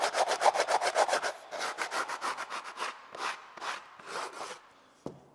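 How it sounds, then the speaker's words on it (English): A sanding block rubs back and forth on wood in quick rhythmic strokes, then slower uneven passes, ending with a light knock. "Could even take a sanding block like this."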